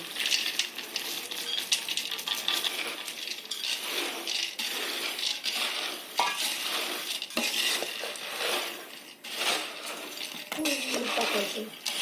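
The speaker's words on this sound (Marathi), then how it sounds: "शेंगदाणे मिरची आता त्याच्यामध्ये मिक्स करायचे." Peanuts and chilies are stirred into nylon sabudana chivda in a pan, producing rapid dry rattling and scraping with clinks of a spoon against metal, busy and close, with a voice occasionally speaking alongside.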